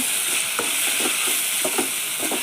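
Tomatoes sauté in coconut oil while a spoon stirs the pan, soft scraping strokes at irregular intervals over a continuous close sizzle.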